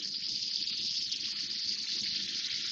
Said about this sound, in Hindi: 2-3 टेबल स्पून में इसमें पानी डाल रही हूँ